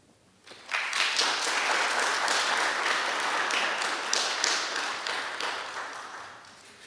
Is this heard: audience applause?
yes